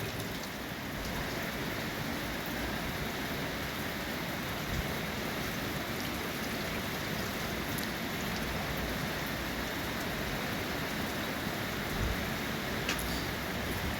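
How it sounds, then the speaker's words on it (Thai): Steady rain falls outdoors while seeds are being washed, a continuous even hiss of drops on surfaces with no pauses throughout. "ตอนที่อัดวิดีโอก็จะมีเสียงฝนตกด้วยนะครับ"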